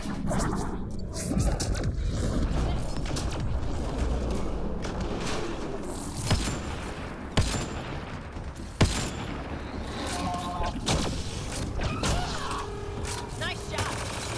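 Rapid bursts of gunfire and sharp impacts crack through a busy video game battle in Badlands, several loud shots standing out against continuous action noise and voices.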